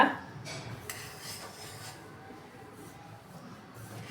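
Sooji laddu ingredients being mixed in a metal vessel make quiet scraping and clinking sounds, with soft rasping rubs and a few light metallic taps, close and faint.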